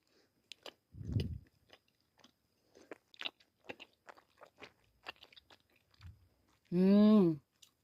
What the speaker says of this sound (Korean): 시간 단축하기 위해서 두 개씩 먹을게요